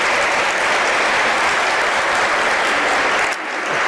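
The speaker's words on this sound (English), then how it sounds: "Give yourself a round of applause" A packed graduation hall erupts in loud, sustained applause, a thick continuous roar of clapping that dips briefly near the end before carrying on.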